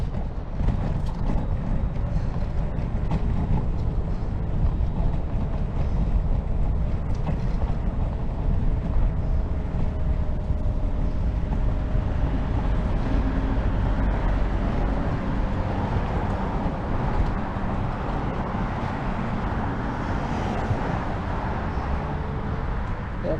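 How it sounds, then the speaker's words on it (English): Electric scooter ride outdoors in Victoria on a Ninebot ES2: a steady, close rush of wind buffeting the microphone with a faint motor whine underneath, continuous throughout with no clear talk. "Now, for those interested, I'm riding a Ninbot. ES2, I think it is."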